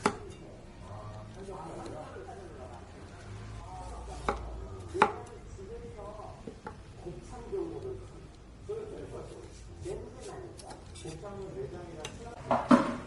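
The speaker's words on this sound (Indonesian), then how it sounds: "Selanjutnya belah dua, lalu dikupas ya." Chayote squash being halved and peeled with a knife while making sambal goreng labu siam, giving soft, uneven cutting and scraping sounds with occasional sharper knocks, heard under steady talking.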